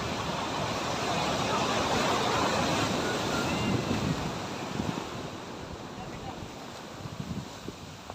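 Storm-driven sea surf rolls against a breakwater where the sand has washed away, a steady broadband roar with wind buffeting the microphone, loud at first and easing slightly in the second half.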